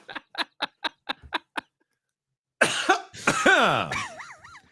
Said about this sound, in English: That was a hiccup, swallow, burp, spit thing.